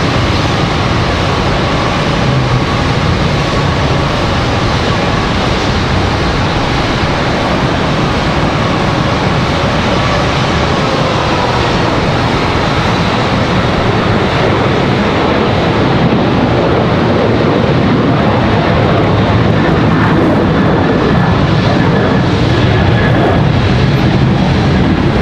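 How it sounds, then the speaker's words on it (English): A Boeing 737 jet airliner departing Charlotte Douglas produces a loud, continuous broadband roar with a faint gliding whine, mixed with wind buffeting the microphone, unbroken for the whole stretch. "So we got that 737 departure."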